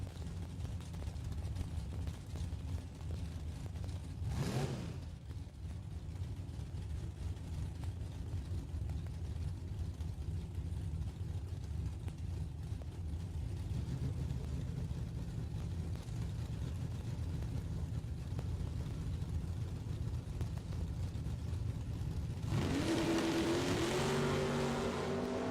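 Drag race cars, a Camaro and a Maverick, at Kil-Kare Dragway, heard as a steady distant engine roar under crowd ambience, with a brief loud burst early on and a surge of engine noise near the end.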